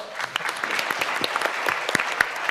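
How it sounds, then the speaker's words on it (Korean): Applause at a Seoul Digital Bio City (S-DBC) conference on the bio industry, as a panel speaker is welcomed: dense, close clapping from an audience for under three seconds, with brief sharp claps standing out and faint talk underneath. "박수 부탁드립니다"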